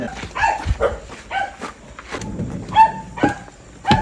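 A small dog barks in quick, sharp yips, several in a row with brief pauses, close by and fairly loud.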